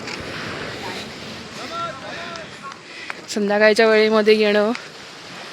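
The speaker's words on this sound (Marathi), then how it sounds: "शांत समुद्राच्या लाटांमध्ये निवांत बसणं खूप सुखदायक आहे." Calm sea waves wash at Boya harbour in Guhagar as a soft, steady broadband hiss with some wind noise, mostly beneath a person speaking close to the microphone.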